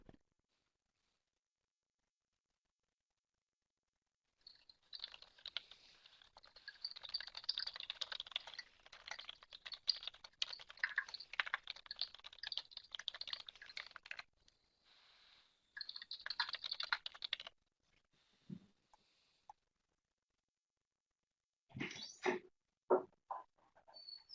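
Rapid typing on a computer keyboard, entering a question into an online Q&A box during an eTwinning training session. Dense bursts of clicking keys run for about ten seconds, then shorter runs follow between quiet gaps, with no talk.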